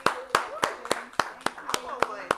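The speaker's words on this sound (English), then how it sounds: "A round of applause." About eight sharp, evenly spaced claps from a small studio audience on a talk show, close and distinct, with a voice murmuring faintly underneath.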